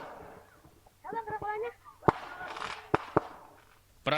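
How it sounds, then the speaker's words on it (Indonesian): Firecrackers are thrown at close range in a brawl between two groups of village youths in Curug, Tangerang, Banten, with sharp loud bangs cracking out several times over shouting voices and crowd noise. "Aksi saling serang dengan petasan bahkan dilakukan dengan jarak sangat dekat."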